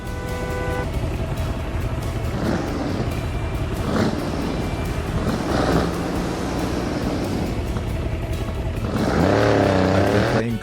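A car engine drones steadily in the Android/iOS open-world driving game Car Parking Multiplayer 2, rising to a louder rev near the end, with no talk.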